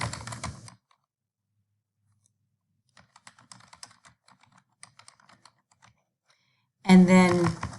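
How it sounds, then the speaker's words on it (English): Quick, light keystrokes patter on a computer keyboard in a short irregular burst, close and fairly quiet, with brief talking just before and after. "we'll type a different phrase here"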